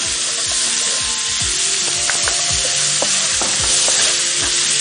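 Finely chopped onions and curry leaves sauté in hot oil, giving a loud, close, continuous sizzle with a regular rhythm of stirring scrapes from a spatula against the pan.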